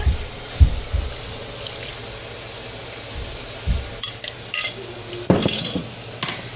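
A metal utensil stirs a thickened cornstarch mixture in a pot, clinking and scraping against the sides in scattered knocks that bunch into a flurry near the end.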